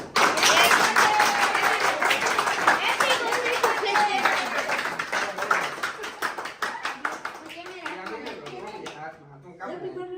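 A group of people claps together in a lively burst of applause at a party celebrating 100k, with voices and chatter mixed in; the clapping stays dense and loud, then thins into scattered claps near the end.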